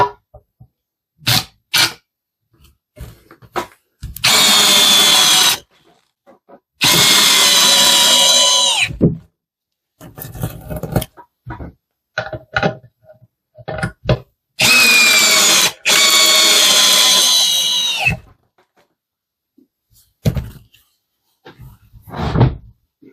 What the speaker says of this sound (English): So we're outside, just gonna drill 1 hole.